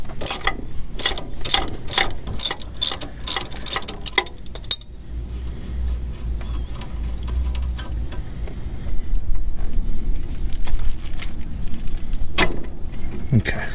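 An 18 mm open-end wrench works a sway bar end link bolt on a Mercury car, producing clicking, ratcheting metal taps and clinks close by, with someone talking intermittently.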